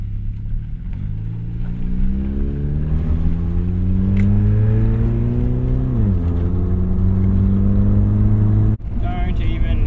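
A Nissan engine with its air box removed drones loudly through the exhaust, revving up in a steady rising pitch, easing back and climbing again, heard up close inside the car.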